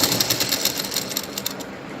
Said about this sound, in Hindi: और हम यहाँ पर सिलाई लगाएंगे, इसे अटैच कर लेंगे अस्तर के साथ इस तरीके से।